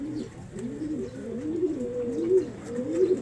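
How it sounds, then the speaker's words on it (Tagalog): Pigeons coo over and over in soft, rolling calls, with several birds overlapping at close to moderate distance. "Grabe, ang dami ng ibon tumatawid dito."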